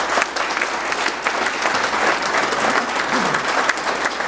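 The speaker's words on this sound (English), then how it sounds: "Give yourself a round of applause." Attendees at a business breakfast give a sustained round of applause, many hands clapping steadily and fairly close for several seconds, with no one speaking over it.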